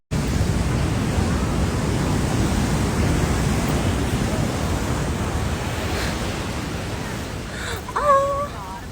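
Ocean waves at 1,000 Step Beach roar as a steady, broad surf wash with wind buffeting the microphone, continuous and loud throughout, with a brief voice near the end.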